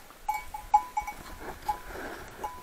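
Sheep in a farm garden, with faint bell clinks and soft bleats heard from a distance against quiet outdoor ambience.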